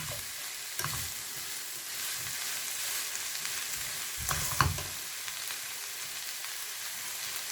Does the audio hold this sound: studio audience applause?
no